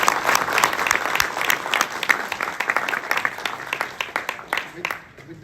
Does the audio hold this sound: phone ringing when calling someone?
no